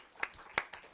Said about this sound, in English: I think we should applaud her